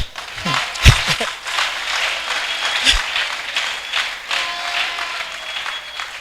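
A church congregation applauding, a sustained wash of clapping from a crowd with a few louder nearby claps and voices mixed in.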